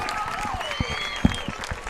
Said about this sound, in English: Let's give all these junior cheerleaders a big round of applause